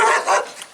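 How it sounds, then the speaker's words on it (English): A neighbor's dog gives one loud, short bark nearby from an outdoor yard, standing alone and ending quickly. "Sorry about the dogs"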